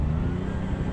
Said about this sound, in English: It's very full-throated and deep for a V6.